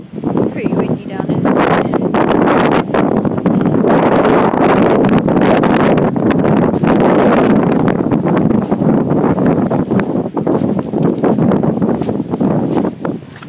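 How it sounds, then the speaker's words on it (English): Strong wind gusts blast across the microphone on a Scottish sea loch shore near the Atlantic, a loud, constant roar that buffets throughout, with a voice partly buried beneath it. "Pretty windy down"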